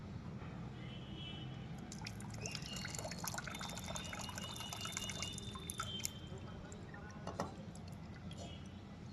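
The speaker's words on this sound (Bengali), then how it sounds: "এবার আমি জলটা ঢাইলে দিছি" Water is poured out during a Shiva offering, trickling and dripping softly in quiet, low-level splashes under faint background murmur.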